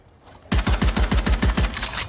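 Rapid automatic gunfire in a first-person shooter video game, a loud close burst of about nine evenly spaced shots that starts abruptly after a quiet moment.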